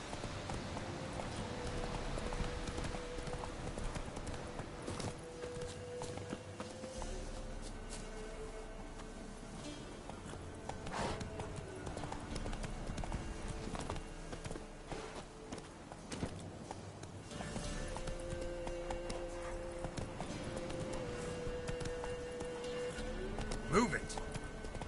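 A horse clip-clops at a steady walking pace in the Witcher video game. Close, rhythmic hoofbeats run throughout, with voices and other game sounds around them.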